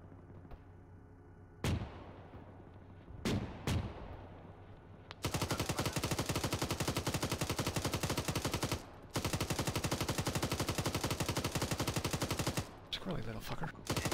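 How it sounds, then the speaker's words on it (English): A vehicle-mounted cannon fires in a military combat video game, with a few sharp single shots followed by long, rapid sustained bursts at close range that briefly pause and resume, while voices talk over the radio. "If you need to use the cannon, please do."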